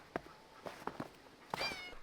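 A cat gives several short, quiet meows while being held in a barn, with soft rustling and handling sounds between the calls.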